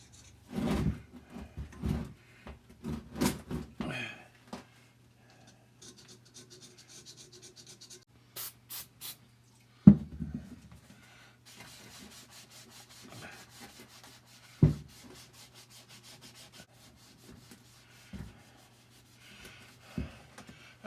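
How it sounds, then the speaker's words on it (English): Light scraping of residue off a metal part from a Cat 60 crawler tractor, heard as intermittent rubbing and scratching strokes close up, with a few sharp knocks and long quiet gaps between. "So I'm just going to lightly scrape that residue off."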